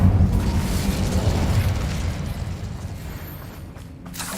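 An Incendio fire spell in Hogwarts Legacy erupts as a loud, dense roaring burst that fills the opening moments, then slowly thins into a fading rumble with no speech.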